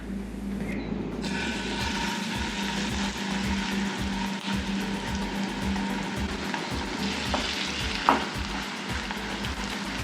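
Besan pola batter frying in hot oil in a pan, a steady, close sizzle and crackle that holds throughout with a brief sharp pop near the end, no talking.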